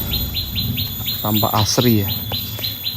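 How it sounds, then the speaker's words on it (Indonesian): Birds chirp in a regular repeating series of bright calls in a Central Java forest near a secluded house, fairly close and steady while a person briefly talks over them. "Suara burung-burung menjadikan atau menambah suasana semakin"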